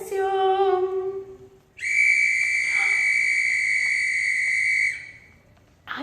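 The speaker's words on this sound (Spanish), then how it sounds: "Es como un pito, como un silbato." A shrill traffic officer's whistle blows in one long, steady, piercing blast lasting about three seconds, preceded by a softer warbling tone, with nothing else around it.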